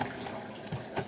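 Water runs from a kitchen faucet onto a counter sink during slime-making, a steady splashing stream with a couple of brief louder gushes and no talking.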